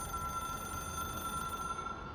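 A telephone rings steadily in the video game Control, an electronic tone held without a break, heard alone over a low background hum.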